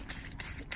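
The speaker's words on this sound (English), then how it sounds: "So I'm just going to spray every joint" Three quick hissing bursts from a spray bottle misting soapy water onto propane line joints, evenly spaced, close and moderately loud.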